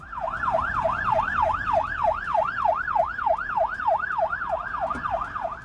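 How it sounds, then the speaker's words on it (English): A rapid electronic emergency vehicle siren yelps up and down in a steady, fast regular cycle, loud and continuous over a low rumble of street traffic. "The sound of these sirens, as emergency vehicles sped along the streets"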